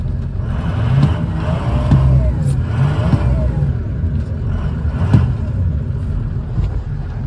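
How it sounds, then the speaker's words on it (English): A car with an electronic throttle, long unused and just started up, revs under throttle blips, its engine surging several times over a steady idling rumble, fairly loud and close, with no one talking. "Let's track the throttle a little bit there."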